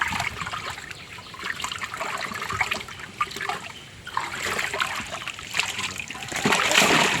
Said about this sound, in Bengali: জলটা ফেলে দিন